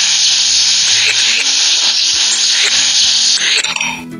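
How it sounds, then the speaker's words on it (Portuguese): A baby character's teeth being brushed in the Talking Angela video game, heard as a steady, loud, hissy electric buzzing that runs nearly the whole time before tapering off at the end. "vou escovar os dentinhos dela"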